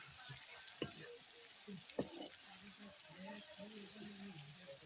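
Chillies frying in a wok with garlic and spices, a faint steady sizzle with a couple of sharp knocks, while a voice talks over it.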